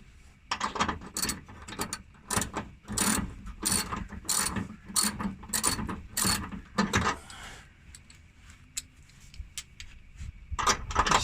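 A socket ratchet wrench clicks in quick repeated bursts as a 13mm bolt is turned during a car seat and subframe install, loud and close, pausing briefly before resuming.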